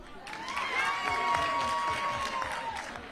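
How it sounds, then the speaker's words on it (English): Audience at a women's parliament session applauding a member after results are read, with scattered clapping mixed with crowd murmur and a sustained voice tone over it. "first clap for her."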